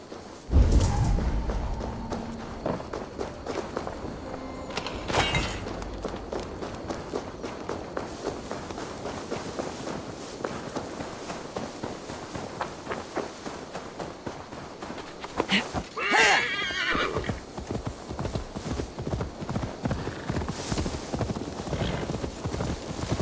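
Horse hooves clip-clop at a running pace in Assassin's Creed Valhalla, a fast rhythmic stream of close thuds over game ambience, with a brief whinny and louder surges partway through.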